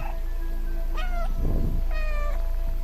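A cat meowing twice, with two short drawn-out calls about a second apart over a steady hum, plus a brief rustle between them.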